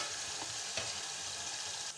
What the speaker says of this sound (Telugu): టమోటాలు కూడా పచ్చి వాసన పోయేదాకా వేయించుకోవాలండి.